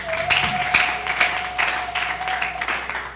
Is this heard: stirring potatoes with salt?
no